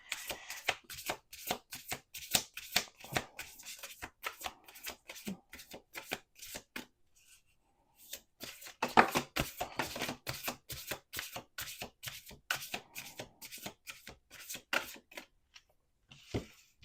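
Oracle cards are shuffled by hand in close, crisp riffling bursts of rapid flicks. The shuffling pauses briefly, then resumes at a similar pace.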